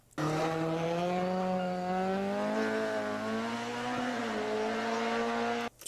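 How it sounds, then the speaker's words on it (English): A loud, close Ford RS2000 four-cylinder rally car engine holds a high, buzzy note, rising slowly in pitch as it revs up, then cuts off abruptly. "Sounds like a rally car."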